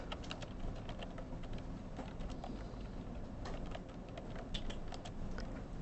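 Keys clatter on a computer keyboard while a file is typed and closed with a Ctrl+D press. A fast, fairly steady run of close clicks sits over constant background hiss, with no voices.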